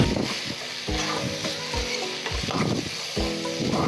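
Ginger-garlic paste stirred in a hot frying pan for a chicken curry: close, rhythmic scraping strokes of a spoon against the pan repeat about every half second over a continuous sizzle.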